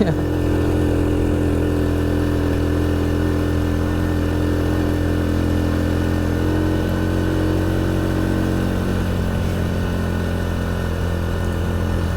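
A Honda Supra X 100 motorcycle labours up a steep hill in first gear. The engine drones steadily and loudly, close up, with a constant rough hum and no pauses or gear changes.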